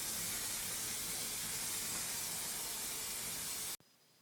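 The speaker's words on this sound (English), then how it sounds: "It's surprising how far spray paint will travel." Spray paint hisses from a can onto Morris Minor dashboard and steering column parts, a loud, steady close spray that cuts off abruptly near the end.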